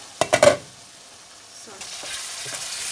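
Lean mince frying in a pan gives a soft, steady sizzle close up. It opens with three quick knocks of a utensil against the pan, and the sizzle rises slightly toward the end, with no talk.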